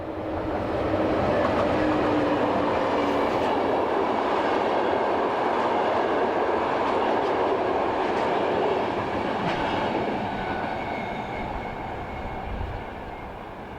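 An Austrian class 1116 electric locomotive hauls a passenger service from Innsbruck to Graz in alpine mountain country, slowing as it passes with a steady rumble and rolling clatter of carriages, loud throughout and easing slightly at the end.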